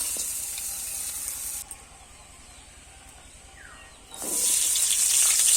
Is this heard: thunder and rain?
no